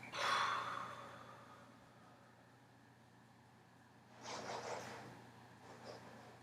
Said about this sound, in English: Take a deep breath in and exhale.